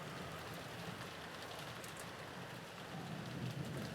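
Heavy, continuous rainfall from the video game Umineko When They Cry pours down with a dense hiss, steady and close, with no voices.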